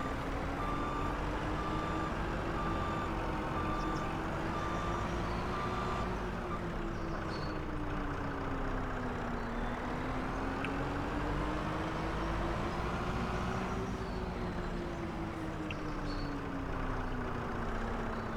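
A truck engine idles steadily in Farming Simulator 25, a low droning hum with slow pitch wavering, joined at first by a repeating reversing beep, moderately quiet and with no talk over it.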